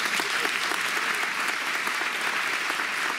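A crowd at a gathering for the committee for Curtis claps steadily and densely for his sister, an even wash of applause throughout with no pause.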